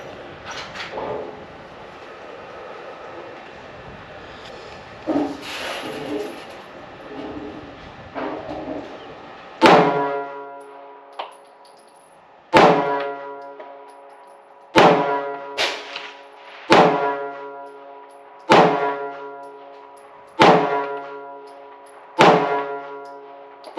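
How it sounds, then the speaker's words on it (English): Ten sharp gunshots from a SIG P365 pistol firing range ammo, cracking out one by one at a steady, unhurried pace after a stretch of background noise, each shot loud and close with a quick decay. "Let's see how it feels out of this SIG P365 now. Here we go, 10 shots."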